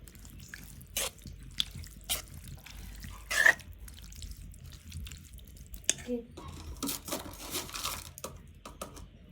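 Water poured into a simmering squid gravy seasoned with chili and garam masala, heard as scattered drips and splashes with a brief running pour toward the end, fairly close.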